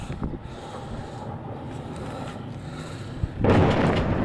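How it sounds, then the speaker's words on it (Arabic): A Russian warplane airstrike explosion over Inkhil in Daraa, a distant boom that swells into a loud rumbling blast near the end, following several seconds of steady wind-buffeted outdoor noise. "غارة جوية من قبل الطيران الحربي الروسي"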